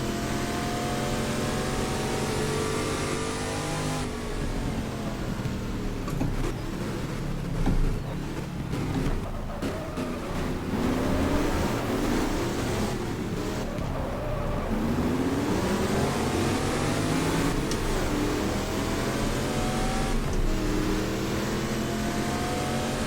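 A Ford GT40 racing engine in GT Legends roars at full throttle, loud and continuous, its pitch rising and falling through gear changes and lifts across the lap.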